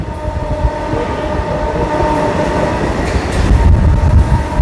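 A passenger train running at Amghata station on the newly reopened Amghata–Krishnanagar rail line, with a steady loud rumble and rolling wagon noise throughout and faint horn tones, heard up close.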